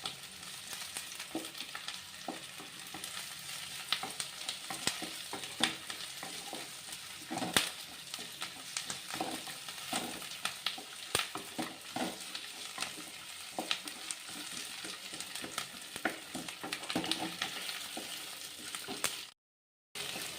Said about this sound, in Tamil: பாருங்கள் வெங்காயம் நல்லா வதங்கிடுச்சு